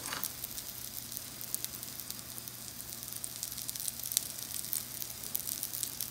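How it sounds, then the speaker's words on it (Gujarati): Potato lollipops frying in hot oil give a soft, steady sizzle with scattered crackles and pops throughout, no voices. "પછી આપણે એની અંદર આવી રીતે નાખી દઈશું કે ફાઇન રીતે તરાઈ જાય"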